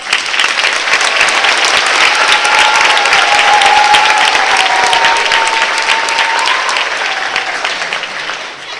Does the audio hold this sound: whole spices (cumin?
no